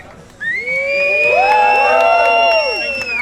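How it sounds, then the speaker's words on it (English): An audience at a Q&A gathering in a Miami supercar venue bursts into loud cheering, with rising and falling whoops and shouts swelling over a crowd roar that holds strong to the end. "Please give a good hand of applause for our good friend from London"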